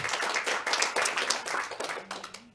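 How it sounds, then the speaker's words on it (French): An audience at an event applauds, with dense, loud clapping from many hands that thins and fades over about two seconds. "Claude Larocque, on peut aussi l'applaudir, elle n'est pas là, mais bon, c'est..."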